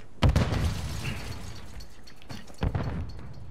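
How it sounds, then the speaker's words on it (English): A grenade detonates in a video game, a sharp, booming blast with debris crackle near the start, followed by a second burst near the end of the short clip. "Grenade out!"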